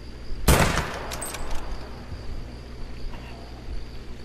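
A 6.5 rifle fires at an animal in the hunting game Hunter Call of the Wild: one sharp, loud crack that fades into a quiet outdoor ambience.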